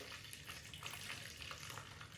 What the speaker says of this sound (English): 350 grams of room temperature water. In that goes.